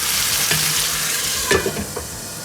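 Tomatoes cooking down in a pan for alu baingan, a steady soft sizzle with a few spoon stirs and scrapes near the end, close up and without speech.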